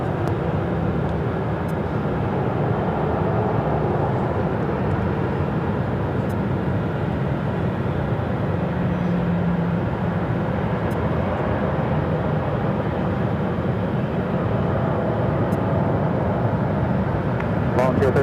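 Airliner taking off from runway 7 left at Phoenix airport, a steady loud broadband roar filling the whole stretch with little change, heard at a distance over the airfield.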